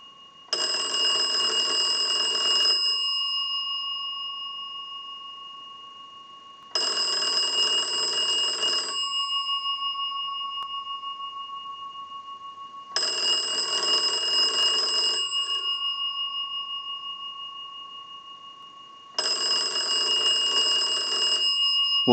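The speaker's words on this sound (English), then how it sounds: "use the analyzer and send a ring cycle to the bell box" Mechanical bells in a wooden bell box for an old candlestick telephone ring loudly and steadily in four long bursts of about three seconds each, separated by roughly three-second silences, driven by a ring cycle from a line analyzer.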